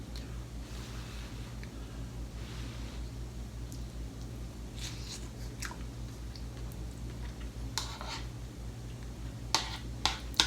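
Someone tastes a spoonful of homemade low-carb hashbrown casserole, a copycat of Cracker Barrel's, with quiet close chewing and a few sharper wet clicks toward the end over a steady low hum.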